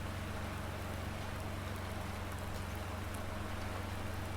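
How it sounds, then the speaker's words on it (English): Steady rain hiss in Farming Simulator 19, falling on the Richport map, a continuous soft wash under a low engine-like rumble, with no voices. "this rain really needs to go away"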